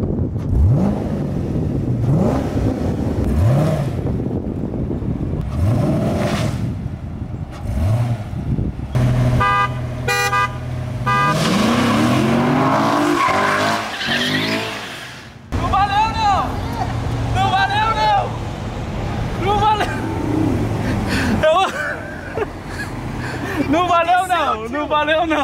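Corvette and BMW i8 street race: engines rev and accelerate hard with a horn toot, loud and close, beneath excited Portuguese-speaking voices throughout.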